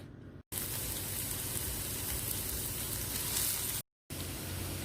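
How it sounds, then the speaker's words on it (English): Onions sautéing in a pan for a meatloaf mixture give off a steady, dense sizzle with a close crackling hiss, interrupted by two brief cuts to silence. "First thing I'm going to do is saute up some onions to add to our meat mixture"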